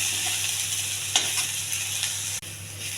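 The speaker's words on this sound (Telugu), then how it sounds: "ఇలా మొత్తం దగ్గరకు వచ్చేంత వరకు వేయించుకోవాలండి" Mint leaves and stalks frying in oil in a pan while being stirred, giving a steady, close sizzle with a few light scraping stirs and no voices.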